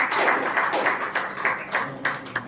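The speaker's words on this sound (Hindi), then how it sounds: "आपकी जोरदार तालियां भी स्वागत करेगी" Audience applause at a public lecture event for World Book Day in India, a burst of steady clapping from a modest crowd, fairly close and even throughout.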